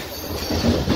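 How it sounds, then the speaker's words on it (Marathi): Mumbai Harbour Line local train rolling through a curve, with a steady loud rumble of wheels and faint squeal, heard from on board. "हे बघा पूर्ण कर्व मध्ये आपली ट्रेन."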